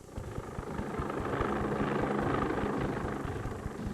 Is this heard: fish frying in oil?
no